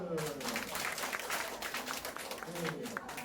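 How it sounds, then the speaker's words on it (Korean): A crowd claps steadily for a few seconds, with voices talking over the applause. "자, 박수"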